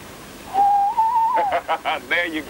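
A handmade toy whistle gives one sustained, gently warbling bird-like note. It is followed by a few shorter chirping bursts and some voice-like sounds, fairly close and clear.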